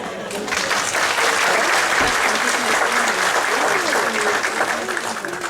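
A small audience at a dog training information session breaks into loud, dense, continuous applause that holds steady throughout, with a faint murmur of voices mixed in.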